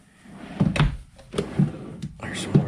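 Kitchen drawers in a Northwood Arctic Fox 25Y travel trailer are pulled open, giving several soft thunks and sliding knocks spaced about a second apart, fairly close.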